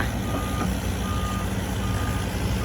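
A six-wheel truck reverses at an earth-moving site for a pond, its reversing beeper sounding faintly in repeated pulses through heavy, continuous engine and site noise.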